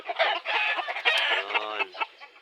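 Chickens on a Philippine chicken farm cluck and squawk close by in a busy, continuous jumble of calls, including a brief crow-like cry, with no talking.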